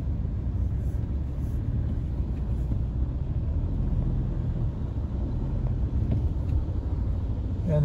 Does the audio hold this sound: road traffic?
yes